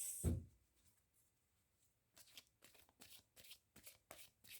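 Oracle cards being shuffled and drawn: an initial soft thump, a quiet pause, then a rhythmic run of close, papery riffling flicks.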